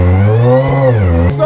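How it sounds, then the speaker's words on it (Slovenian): Toyota GT86 engine revving at a gymkhana event, a loud, close, sustained rev with rising and falling pitch that briefly dips before climbing again, and nothing else heard. "Toyota GT86."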